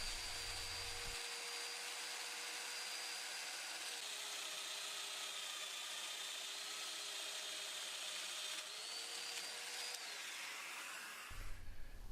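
A domino joiner cuts mortises in wood for joinery, giving a steady, close, high motor whine for about ten seconds before it winds down.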